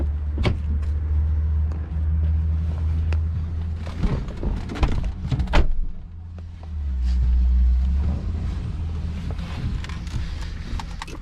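A 2012 Mercedes GLK350 4Matic AWD SUV drives along with a low steady engine and road rumble from inside the cabin, swelling and easing, with scattered clicks and knocks over it.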